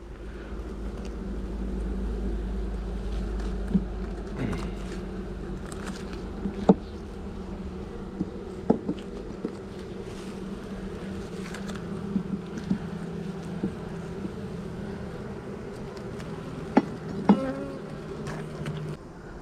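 A steady, soft hum of many honey bees buzzing together at close range by the hive, with occasional louder individual bees passing near.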